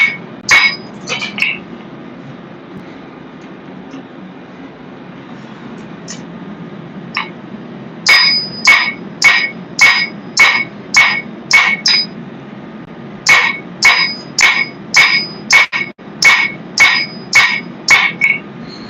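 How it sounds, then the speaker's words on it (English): A dog's head hammer striking 5160 coil spring steel at a blacksmith forge, sharp ringing metallic blows in bursts, with a rapid steady run of loud strikes near the middle and a second run later. "That's a dog's head hammer."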